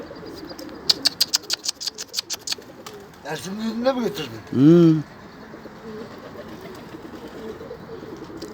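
Pigeons flap their wings in a quick burst of sharp claps, then give a couple of soft, rounded coos. Low background noise runs underneath, and a person speaks briefly.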